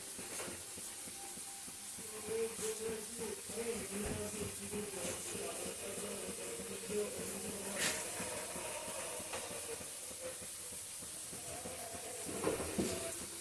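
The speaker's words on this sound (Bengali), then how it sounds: "আলুটাকে একটু ভেজে নেব আমি।" Potatoes fry in white oil in a kadai, giving a steady, soft hissing sizzle that runs unbroken from start to end at a quiet level.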